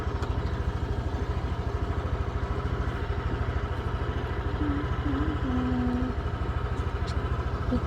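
A motorcycle engine idles close by, a steady, fast rhythmic chugging that keeps an even pulse throughout with slight rattle.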